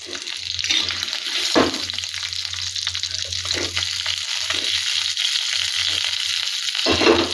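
Tomatoes and curry leaves frying in oil for tomato chutney, a loud continuous close sizzle with occasional stirring scrapes and a low hum underneath, no talking.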